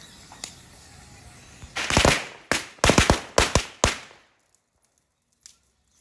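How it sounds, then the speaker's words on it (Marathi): Old, unreliable firecrackers thrown into a fire burst in a quick run of sharp cracks and bangs, several close together, then the noise dies away to near quiet. "आमच्या आईची फटाके वाजवायची स्टाईल बघितली का"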